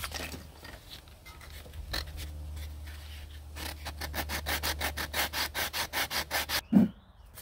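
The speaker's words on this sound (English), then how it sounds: "I'm going to sand the top of this thing flat." Sandpaper rubbed across the top of a gourd on a flat surface, steady back-and-forth scraping strokes growing louder and more rhythmic, close and alone, ending with a knock.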